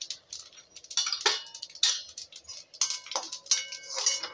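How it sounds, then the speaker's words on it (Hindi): Mustard seeds spit and pop in hot oil in a pan after cumin has browned, for a matar makhana khichdi tempering: scattered sharp crackles and ticks in quick irregular bursts, close and fairly quiet, with no talking. "राई भी मेरी तड़कने लग गई है"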